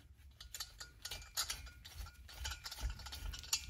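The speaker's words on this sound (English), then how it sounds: "You can hear it cleaning the threads" A thread chaser turned through exhaust stud threads in a cylinder head with penetrating oil, giving close, faint metallic grinding and ratcheting clicks in an uneven rhythm.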